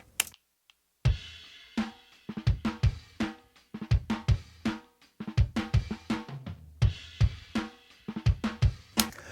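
A kick drum driven through an Electro Harmonix OD Glove overdrive pedal, punchy distorted thumps repeating in a steady groove with gritty, clicky attacks, loud and close with no voices.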